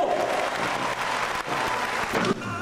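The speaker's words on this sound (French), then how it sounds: "vous pouvez l'applaudir tout à fait" An indoor trial motorcycle event audience in Rennes applauds a rider, sustained loud clapping from a large crowd that swells and briefly dips.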